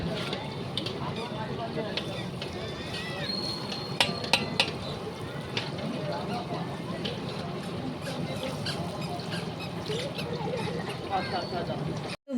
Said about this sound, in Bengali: ভাতের সঙ্গে ওই সমস্ত সবজিগুলো মানে ওই এই গাজর তারপরে বিনস আর ওইগুলো সব মিশিয়ে দিয়েছে